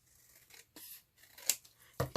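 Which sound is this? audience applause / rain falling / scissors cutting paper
scissors cutting paper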